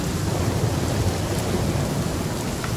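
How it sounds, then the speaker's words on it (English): Steady rain and storm noise from a thunderstorm in The Flame in the Flood, a dense, continuous wash of downpour with low rumbling underneath, even and close throughout with no voices. "Hopefully the storm will be over by then."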